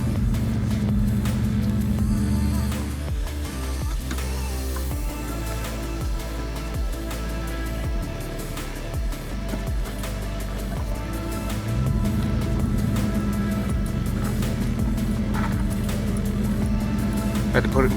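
A 4x4 in four-wheel low grinds uphill on a rough track near old Pennsylvania mine ruins. Its engine drones low and heavy throughout and strains harder near the end, with a voice talking over it.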